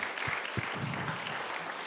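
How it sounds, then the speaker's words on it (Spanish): Brief burst of congregation applause at a church service, dense and steady clapping from many hands heard close, with a voice briefly audible at the start. "dale un aplauso al Señor."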